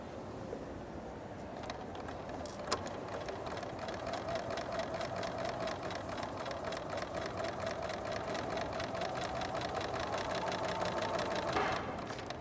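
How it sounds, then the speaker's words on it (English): A sewing machine runs steadily, stitching quilt fabric pieces for a contemporary art quilt, with a continuous fast mechanical whir and needle chatter after a brief start-up. "take it to the machine and stitch it just as before"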